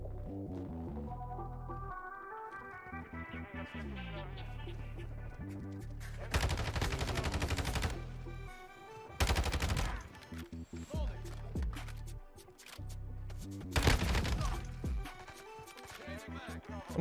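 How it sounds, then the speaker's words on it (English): An assault rifle fires in Modern Warfare 2 in several loud bursts of rapid gunfire between stretches of game music, with a person talking at times. "he was shooting with an AR"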